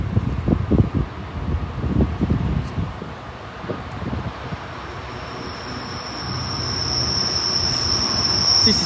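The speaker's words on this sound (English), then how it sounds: "Train approaching." A top-and-tail sand train rumbles steadily past with clanking wheels, ending in a high, sustained wheel squeal as the carriages roll by.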